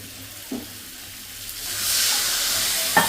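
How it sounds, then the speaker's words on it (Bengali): Potatoes fry with spices over a raised gas flame, a quiet sizzle that swells into a loud steamy hiss once a little water is added, with a few clinks of stirring. "এবারে আমি এটাকে এই আলুগুলোকে একটু ভালো করে কষিয়ে নেব গ্যাসের ফ্লেমটা বাড়িয়ে দিলাম অল্প সামান্য একটু জল দেব"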